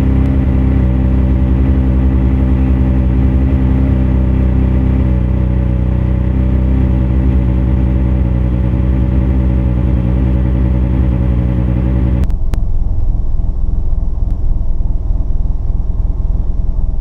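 A Mitsubishi 3000GT or Dodge Stealth engine runs loud and close with a steady, even drone, then partway through the tone abruptly shifts lower as the RPMs drop and it settles into a rougher idle.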